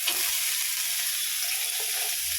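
Small onions sauté in oil, giving a dense, steady hiss of frying that runs throughout at close range.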